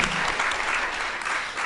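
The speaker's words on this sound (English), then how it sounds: "please give a round of applause to Dina Kafefi" A conference audience applauds a logistics organizer in a short, steady burst of clapping that carries evenly through the moment.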